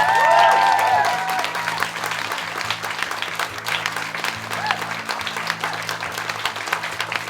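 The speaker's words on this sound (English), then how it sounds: "Can we give these guys a massive round of applause?" Enthusiastic audience applause in a theatre for young performers from Ukraine in Scotland, a dense sustained clapping crowd that stays loud throughout, with a faint voice or whistle at the very beginning.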